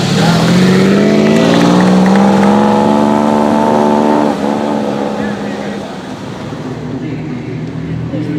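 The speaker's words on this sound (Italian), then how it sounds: "il 195 Inter, il motore progettato da Gioacchino Colombo" A Ferrari 195 Inter with its Gioacchino Colombo-designed engine runs at the 1000 Miglia in Forlì, its loud engine note climbing steadily in pitch before easing off. Someone talks over it throughout.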